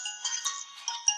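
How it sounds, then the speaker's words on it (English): A mobile phone ringtone plays during an online tutoring lesson, a short, bright tinkling melody with sustained tonal notes, moderately loud and heard alone without talk. "That's my phone."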